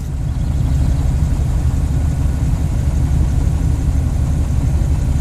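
A car engine runs steadily at idle, a loud continuous low rumble with a slight even background noise and no talking.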